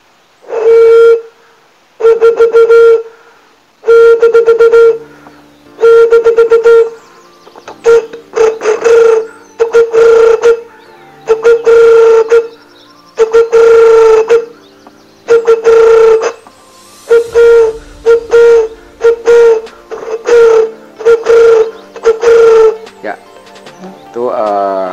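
Breath blown across the mouth of a used bottle, imitating the cooing of a turtledove: about twenty loud, steady hooting tones in short, evenly spaced bursts, close and clear with a breathy edge.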